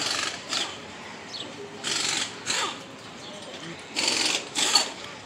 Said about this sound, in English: You about to hear some drilling because I'm walking past a flat fix place